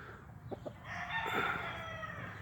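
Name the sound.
rooster crowing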